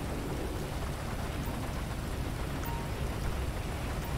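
Continuous rain pours down in the police patrol game LSPDFR, a dense, even wash of hiss that holds steady with no talking and no clear breaks.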